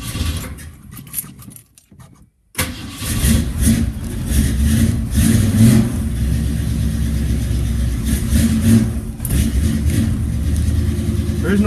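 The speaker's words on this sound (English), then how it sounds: "So she pumped her own gas up and got herself running without a choke." A 1967 Ford V8 with a 600 CFM Edelbrock carburetor and no choke cranks briefly, catches after a short gap, and settles into a steady, loud, rough cold idle that runs on without talk.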